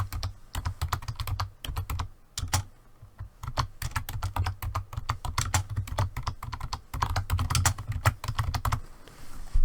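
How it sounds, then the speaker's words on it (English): Fast, steady typing on a computer keyboard fills the whole stretch as a file name is entered, with crisp close key clicks and only brief pauses. "File name, I'm going to type the file name here."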